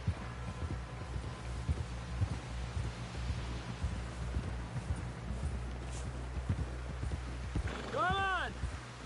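Horse hooves clip-clopping in Red Dead Redemption 2, a steady rhythmic walking gait heard faintly under talking voices, with a brief horse whinny near the end.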